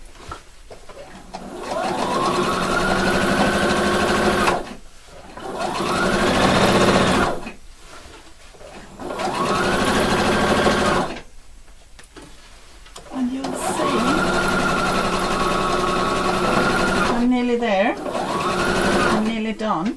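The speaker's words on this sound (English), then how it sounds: "I'm stitching all the way." A sewing machine stitches a straight waistband, running in several long bursts of rapid mechanical whirring that speed up and slow down, with short pauses between them and a voice talking alongside.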